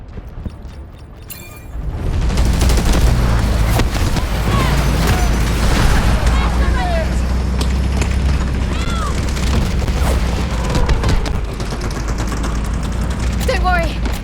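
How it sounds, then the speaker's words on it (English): An artillery barrage in the video game Delta Force, with a dense, continuous roar of booming explosions and rumbling under game voices, following a brief quieter lead-in with a radio-style voice. "Artillery barrage incoming."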